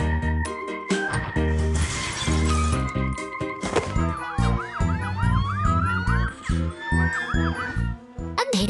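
A police car siren in a children's cartoon about a night patrol wails with rising and falling sweeps midway, mixed in with loud, bouncy music and thumps.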